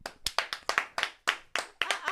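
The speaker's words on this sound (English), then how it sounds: "let's clap for that" A few people on a morning show clap by hand, a close, sparse run of about a dozen sharp, uneven claps over two seconds, no voices.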